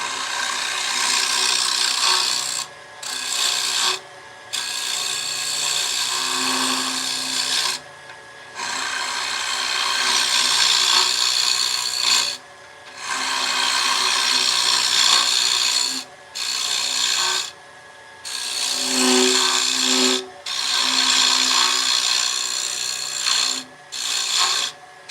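Wood lathe spinning at raised speed while turning a wooden tenon, loud rasping and scraping cuts in long bursts broken by short pauses as the tool lifts off the spinning wood.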